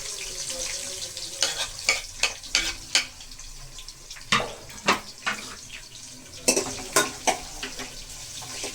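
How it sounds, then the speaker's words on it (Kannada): Three sliced onions frying in hot oil for lemon rice, a steady sizzle under repeated sharp scrapes and taps of a spatula stirring in the pan, close by and with no voice. "ಈರುಳ್ಳಿ ಹಾಕಿ ಇವಾಗ ಹಚ್ಕೊಂಡಿರೋ 3 ಈರುಳ್ಳಿನ ಹಾಕ್ತಿದ್ದೀವಿ ಫ್ರೈ ಮಾಡ್ಕೊಳ್ಳೋದಕ್ಕೆ"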